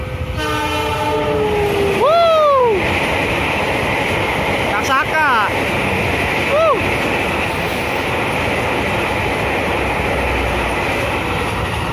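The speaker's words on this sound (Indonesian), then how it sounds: "kita tunggu kereta api dari arah Yogyakarta." A train horn blares several times as a train arriving from Yogyakarta rumbles past a level crossing near Sentolo, Indonesia, with a steady roar of wheels throughout.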